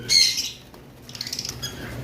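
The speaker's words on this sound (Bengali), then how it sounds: "আজকে শুরু করব আমরা প্রথমে এই লাভবার্ড পাখি দিয়ে" Harsh, shrill lovebird squawks in two bursts, a loud one at the start and a rougher, fainter string of calls after a short pause.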